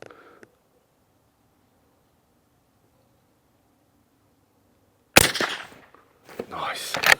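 A Browning Maral hunting rifle fires a single loud, sharp shot on a range after several seconds of near silence, its report ringing out and decaying, followed by a second burst of noise.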